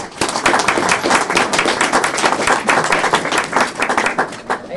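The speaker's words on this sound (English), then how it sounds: "Clap." A crowd at an AA group meeting claps steadily and fairly loudly throughout, dense continuous applause without talk.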